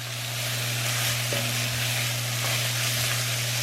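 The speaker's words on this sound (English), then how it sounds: "we're gonna go ahead and add that to the pot and stir it in with the veggies" Rinsed white rice stirred into vegetables in a pot: a steady, close sizzle and frying hiss with a soft low hum running beneath, no speech.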